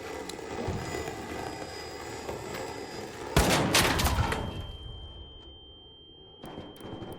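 Gunfire from the video game Arc Raiders: continuous rattling shots under a steady roar, then a loud burst of several shots in the middle, fading before a final short volley.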